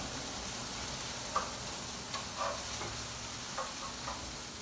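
Onions fry quietly in a pan with a soft continuous sizzle, broken by a few light clicks and scrapes as they are pushed around.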